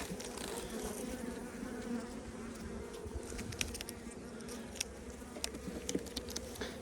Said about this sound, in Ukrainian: Там якась така невеличка жменька бджіл є.